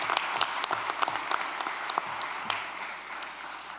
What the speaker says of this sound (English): My mom and dad, oh, there you go, you get a round of applause.